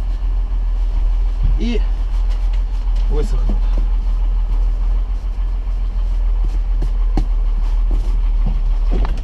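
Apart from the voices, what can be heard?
tractor engine starting and running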